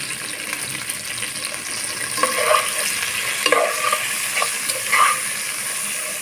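Mung dal and bitter gourd stirred in a pan with salt and turmeric, a steady frying sizzle under repeated clattering spoon scrapes against the pan, close and without talk.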